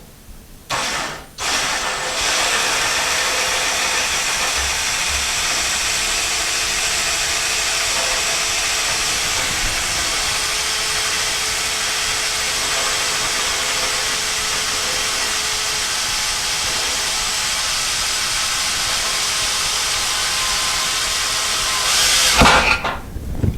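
Power drill boring a 1/8 inch pilot hole for a shower door install, starting with a short burst then running as one steady, loud whine for about twenty seconds before stopping.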